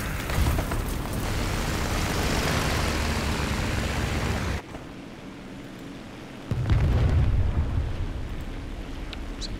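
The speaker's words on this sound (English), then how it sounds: "Big old bomb." A bomb detonation in the War Thunder tank game booms with a heavy, loud rumble that lasts several seconds, breaks off abruptly, then a second deep blast rolls in and slowly fades.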